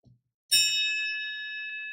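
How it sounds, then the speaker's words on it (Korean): A single bright bell strike rings out during a Korean Sunday church service, its clear metallic tone sustaining and slowly fading for over a second after a faint short knock just before it. "그러면 이 종소리가 안 들리도록 기도해야 됩니다."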